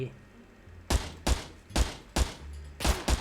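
Five heavy, evenly spaced gunshots ring out in the SCUM survival game, each a loud sharp crack with a deep thump, separated by short quiet gaps.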